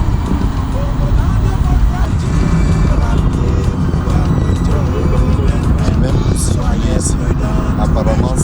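Road traffic pulls away at a green light at a busy intersection in Yaoundé, a dense, continuous rumble of engines and vehicles moving off, with scattered horn-like tones. A person talks over the noise throughout.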